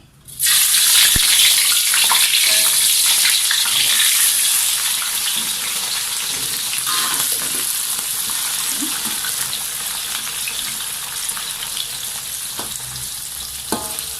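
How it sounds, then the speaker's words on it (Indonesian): Loud, continuous sizzling of big red chilies, bird's eye chilies and spices frying in a hot pan, with occasional stirring clatter, no talking. "Oke, saya akan gorengkan rempahnya dulu. Saya gorengkan cili besar, cili api"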